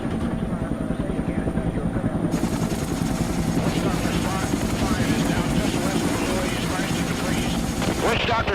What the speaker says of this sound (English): Over the radios, we can hear the choppers ahead of us.